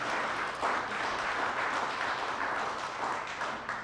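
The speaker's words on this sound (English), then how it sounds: "if you're clapping" Audience applause from a crowd at a live talk event, steady and fairly dense clapping sustained throughout at moderate volume with no speech over it.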